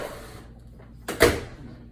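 An oven door shuts with a single solid thunk after a rack of smoky maple keto ribs goes in, a short close knock alone in a quiet kitchen.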